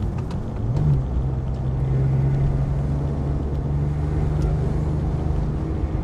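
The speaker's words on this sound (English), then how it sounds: "Yeah, you can really hear like the turbos spool up." A 2008 Porsche 911 GT2 turbocharged engine drives on a back road, heard from inside as a loud, steady drone with a sustained tone that rises slightly and then holds, with no talking.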